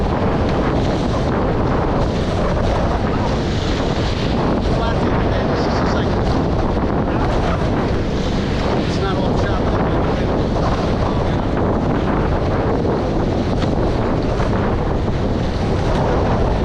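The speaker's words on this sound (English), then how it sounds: "Big wave here." Heavy wind buffeting and ocean waves while sailing a Nacra 20 catamaran off Delray Beach, a loud, continuous roar of gusts and splashing water close to the microphone, with brief voices mostly buried.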